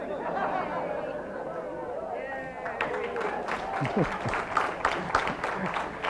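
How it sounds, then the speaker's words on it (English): A lecture audience breaks into scattered applause after someone speaks; the clapping starts after a few seconds of talk and continues as a moderate patter under murmurs and chuckles. "the only time I got an applause when I mentioned Paris Hilton"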